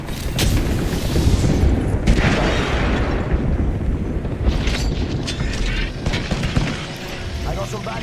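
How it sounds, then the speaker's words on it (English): In the Apex Legends video game, an airstrike lands as a dense, rapid series of loud booms and blasts that crack and rumble one after another, with gunfire-like bursts mixed in. "we got an airstrike coming down"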